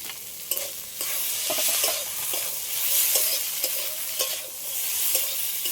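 Fried bitter gourd and onion tipped into a pan and stirred with a spatula: a steady sizzle under repeated scraping and clacking stirs, close and fairly loud, with no talking.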